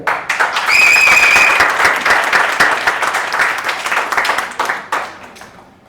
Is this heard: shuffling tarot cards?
no